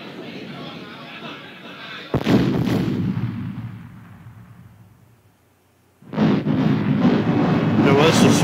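Gunfire in a Philips CD-i video game comes as loud, dense bursts of booming shots that last a couple of seconds, fade, then start again abruptly after a brief quiet gap.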